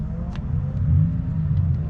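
A supercharged Honda S2000 AP2 engine drones with a steady low rumble that swells slightly in the middle, close and continuous with no talk.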